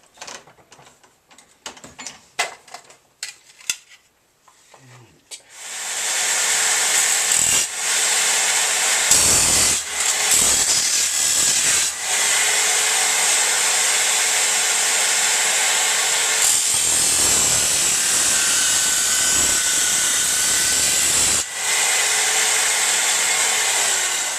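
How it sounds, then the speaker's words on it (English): A power tool grinding sharp edges off metal on a Survival Bandit vehicle in a garage, starting after a few knocks and clanks, then a loud continuous whine that briefly dips as the tool lifts off, close up, no talking. "get these sharp edges off"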